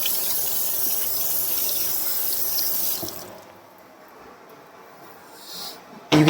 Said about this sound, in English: Every single sink takes forever to get hot water.